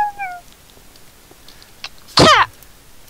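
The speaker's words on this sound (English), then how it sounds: "Cat!" A cat gives one loud, close meow in a blocky survival video game, a short falling cry that stands alone after a few faint high tones.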